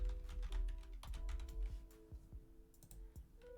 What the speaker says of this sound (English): Let me type in all the options.